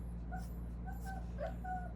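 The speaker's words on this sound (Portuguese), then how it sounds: "E a cachorrinha está aqui querendo prioridade." A small female dog gives several soft, high whimpers and whines in short bursts over a low steady hum indoors, with no talking.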